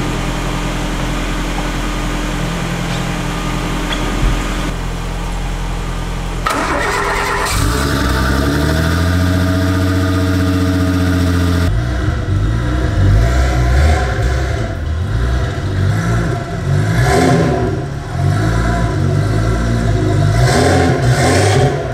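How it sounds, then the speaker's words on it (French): Turbocharged V6 of an Alpine GTA Le Mans cranks and fires, settling into a steady idle before sharp revs rise and fall repeatedly through the exhaust, loud and close with no talking. "je vais vous laisser admirer le bruit. Un petit V6 sympa, turbo en plus, avec un petit échappement."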